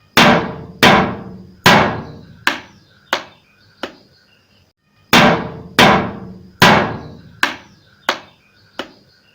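A wooden box and a metal box are struck by hand, producing sharp knocks with short ringing decays. There are two runs of five evenly spaced hits each, separated by a brief pause, and the sound is close and clear with no talking.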